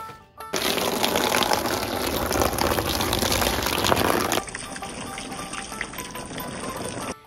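Freshly cut banana leaves being washed in water outdoors, a steady loud rush and splash of flowing water that drops to a quieter trickle partway through.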